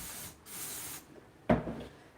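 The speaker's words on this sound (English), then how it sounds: "Do a bit of Dawn dish soap power spray." Dawn dish soap power spray is sprayed into a kitchen sink: a couple of short hissing bursts, then a sharper squirt and rub near the end.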